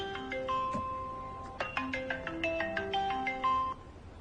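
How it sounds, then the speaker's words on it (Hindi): A mobile phone ringtone announces an incoming call, a bright electronic melody of chiming notes playing clearly and alone for several seconds. "मिस्टर शाओ, मिस जिनबे आपको कॉल कर रही है। Please pick up the phone"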